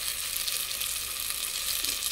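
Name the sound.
sardines sautéing in a pan for miswa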